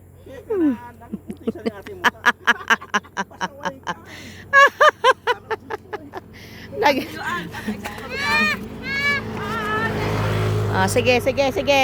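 A motorized tricycle drives along a newly built road in Nagas, Tiwi, Albay, its low steady engine hum running beneath lively conversation and bursts of laughter from the riders.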